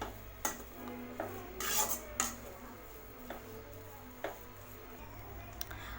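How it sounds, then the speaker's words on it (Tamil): Rava kichadi being stirred in a pan after chopped coriander leaves are sprinkled in, giving soft scraping and rubbing strokes with a few sharper utensil knocks against the pan at moderate closeness. "தூவி ஒரு டைம் நல்லா கிளறி விட்டுருங்க"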